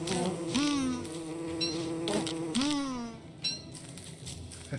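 Bees buzz in the video game Don't Starve, drawn-out droning hums with sliding pitch that swell and fade in repeated bursts, loud and close over steady game background sound.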